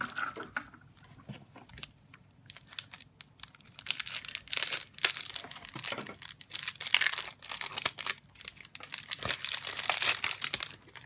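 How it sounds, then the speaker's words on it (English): Crinkly plastic rustles and snips in irregular bursts, close up, with scissors cutting through packaging amid crackling handling noise. "I'm going to use the scissors."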